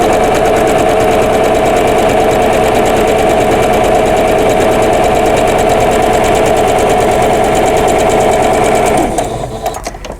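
A sewing machine stitches a seam a quarter inch from a drawn line on a vintage quilt block, running as a loud, steady mechanical whir for about nine seconds before slowing and stopping.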